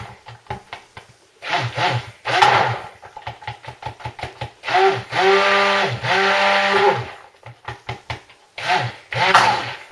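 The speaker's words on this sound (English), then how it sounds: "Oh, stop blowing bubbles, silly blender." A blender mixing chocolate mint cold-process soap whirs in repeated bursts, starting and stopping with rising and falling pitch, close by, with some short gaps between pulses.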